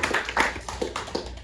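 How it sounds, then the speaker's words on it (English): A few scattered claps from a small comedy club audience, light and uneven over a brief moment. "Give yourselves a round of applause"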